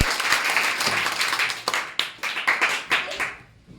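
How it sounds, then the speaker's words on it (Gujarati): A crowd applauds, a dense burst of clapping that thins toward the end. "તો જોરદાર તાળીઓના ગડગડાટથી"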